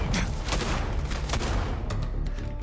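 Rapid gunfire from a scoped rifle in Starfield, a dense run of loud shots in quick succession with a steady, booming blast filling the whole stretch.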